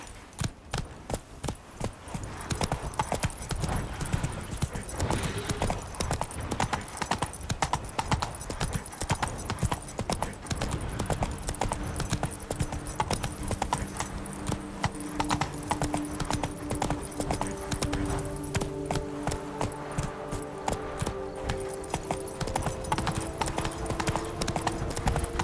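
Roach, Geralt's horse in The Witcher 3, gallops in a rapid, continuous clip-clop of hooves, with sustained musical tones rising underneath toward the end.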